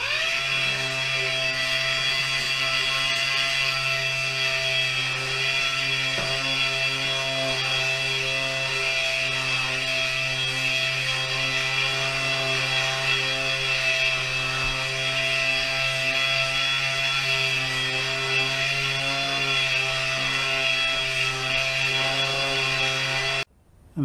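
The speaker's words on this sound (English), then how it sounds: "After sanding it with the maroon Scotch-Brite, they're ready to go." A headlight lens is sanded with a maroon Scotch-Brite pad, giving a loud, continuous, steady machine-like whine that runs unbroken for the whole stretch and stops abruptly at the end.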